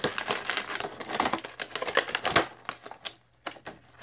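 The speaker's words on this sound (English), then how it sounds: "You just gotta kind of finagle the scissors underneath the plastic." Scissors cut through plastic toy packaging in a quick series of close, crisp snips and crinkles that thin out near the end.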